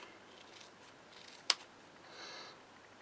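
A pair of scissors trimming craft paper makes one sharp, brief snip partway through, clear against a quiet room, with a faint rustle of paper afterward.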